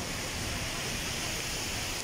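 Steady, dense rushing of water, a continuous roar with no breaks, like floodwater surging past at close range, flowing along a road in Saudi Arabia during heavy rain.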